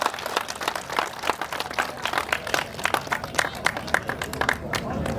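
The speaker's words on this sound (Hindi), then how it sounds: "पर दोनों हाथ ऊपर उठा के जोरदार तालियां।" Audience applause at a poetry gathering (kavi sammelan) during a yagna festival in Buxar, a steady dense patter of many clapping hands over crowd murmur, moderately loud throughout.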